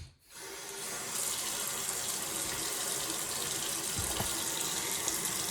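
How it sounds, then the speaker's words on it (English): Tap water runs steadily into a sink while a luxury fude makeup brush is rinsed under the stream, a close, even gush with faint handling bumps and no talk. "And then you're going to rinse this under running water."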